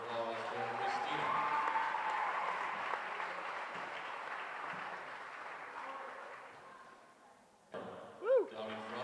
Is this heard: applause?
yes